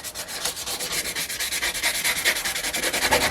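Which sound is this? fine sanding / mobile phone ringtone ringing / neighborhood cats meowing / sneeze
fine sanding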